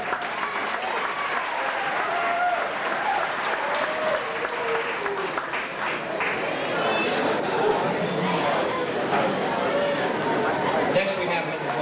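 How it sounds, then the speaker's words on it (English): An audience applauds students being recognized for high basic skills test scores at a school ceremony, a sustained even round of clapping with crowd chatter mixed in throughout. "Let's give these students a round of applause."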